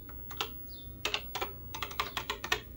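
Keys on an 80s retro computer keyboard clack in a quick irregular run of about a dozen crisp, close presses over a low steady hum.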